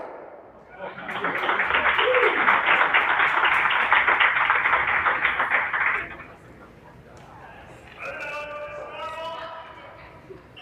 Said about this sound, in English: Crowd reacted to the shot going on in the men's semifinal on sheet C.